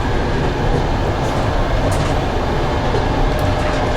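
The interior of a moving passenger train in Ukraine gives off a steady loud rumble and roar, with the continuous rolling noise of the carriage filling the space and no talk.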